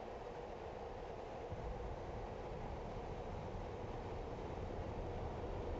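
F-15E jet engines at full power in the DCS World flight simulator, a steady, loud broadband roar with a deep rumbling low end, constant throughout without pauses and with no voices over it.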